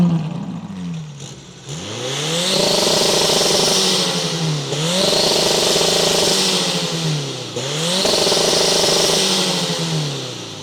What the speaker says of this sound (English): let me know who won the sound check. The Ferrari's naturally aspirated V8 or the Seat's 4-pot turbo